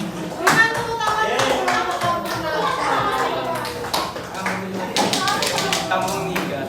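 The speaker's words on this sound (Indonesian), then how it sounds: "Berikan tepuk tangan." Students in a classroom clap their hands, a steady run of sharp taps mixed with children's voices and chatter under the clapping throughout.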